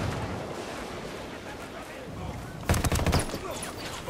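Gunfire in Ghost Recon Wildlands, a rapid burst of automatic shots roughly half a second long, loud and close, set against constant rumbling battle noise.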